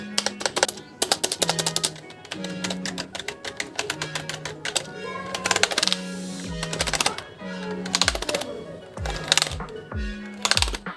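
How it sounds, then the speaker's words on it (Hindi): Typing on a Cosmic Byte Corona CB-GK-02 wired membrane gaming keyboard, close bursts of rapid soft key clicks in uneven runs with brief pauses between, alongside low musical tones. "इस कीबोर्ड में मेम्ब्रेन कीज मिलती है फिर भी साउंड इफेक्ट तो सुनना पड़ेगा"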